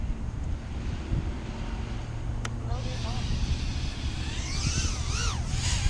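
An URUAV UR85HD cinewhoop drone spins up and takes off outdoors in angle mode. Its thin motor whine rises and bends in pitch as it flies, fairly faint beneath heavy wind buffeting on the microphone.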